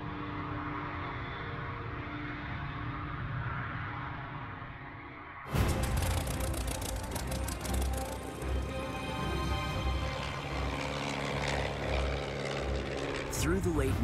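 Piston-engine propeller plane droning steadily and loudly, rising in intensity partway through and continuing as a dense engine roar, with speech present alongside.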